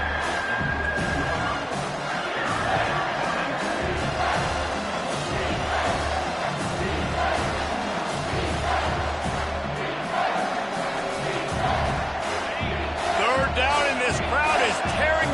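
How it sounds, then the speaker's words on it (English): A stadium crowd in a college football video game, South Carolina against Oklahoma, roars as a steady, dense wall of noise with whoops and shouts, under a commentator's talk throughout. "Crowd is tearing the lid off this place."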